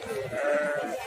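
Sheep bleat at a livestock market in Kyrgyzstan, one drawn-out wavering call standing out close by over low crowd noise.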